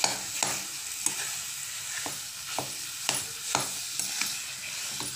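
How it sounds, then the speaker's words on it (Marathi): Grated sweet potato roasting in ghee, a steady broadband sizzle with soft, regular scraping strokes of a spoon stirring through it, close and alone without any talk. "नीट आपल्याला या किसाला तुपामध्ये छान भाजून घ्यायचं आहे"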